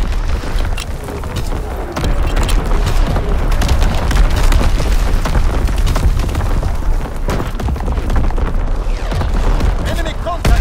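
Heavy explosions and gunfire boom continuously through a loud, dense battle in Call of Duty WWII's Shipment 1944 map, with rumbling blasts and sharp reports layered over each other under game voices.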